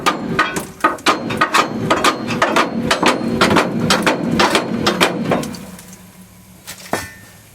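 Rapid, loud metallic hammer blows ring out close by while a pop-up ball hitch goes onto a 2001 Ford F350, a steady run of strikes that slows near the end and stops with one final hit.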